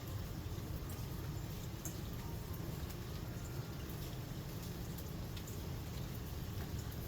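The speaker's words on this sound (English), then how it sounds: "It is raining." Rain falling outdoors as a steady, even hiss of drops, soft and moderately distant, with a few faint brighter patters and no talking over it.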